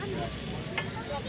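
Fresh potato tikki sizzling on a hot griddle at a street food stall in Kalanaur, Punjab, a steady dense frying hiss with a brief spatter burst partway through.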